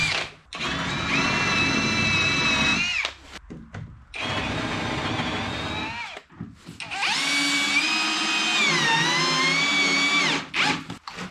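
A power drill pre-drills holes in sheet metal for ordinary sheet metal screws, its motor whining loudly in three sustained runs separated by short pauses, with the pitch wavering as the bit bites.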